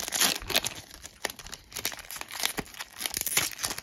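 A Yu-Gi-Oh Pharaoh's Servant booster pack is torn open, with steady close-up crinkling and ripping of the foil wrapper continuing in bursts throughout.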